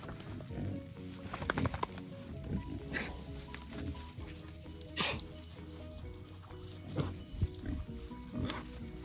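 Several Tamworth cross pigs rooting and grunting beneath an oak tree, low snorts and chewing sounds close by with scattered louder grunts and rustling.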